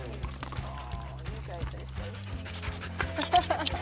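Several dogs pant rapidly and patter about inside a home, close and fairly soft, over a low bed of background music.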